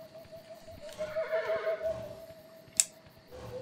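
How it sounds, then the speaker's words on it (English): A horse in Kingdom New Lands gives a long, wavering whinny over steady background ambience and soft clip-clop steps, followed by a single sharp click. "I like how there's horse breath."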